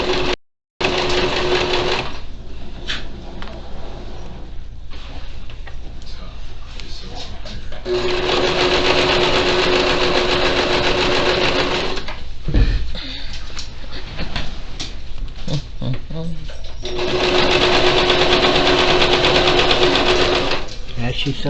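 A sewing machine stitches a quilt close by in long runs of rapid rhythmic whirring, with short pauses between runs.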